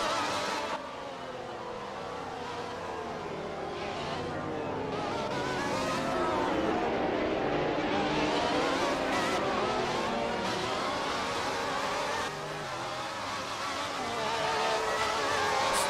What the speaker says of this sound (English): Very slow safety car. Actually painfully slow.